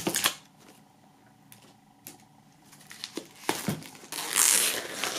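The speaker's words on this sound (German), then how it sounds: "Wir werden das Ganze mal aus der Folie befreien." Plastic shrink wrap being torn and peeled off a CD box set, sharp crinkling bursts and rips separated by quieter handling, ending in a louder stretch of crackling foil, close up.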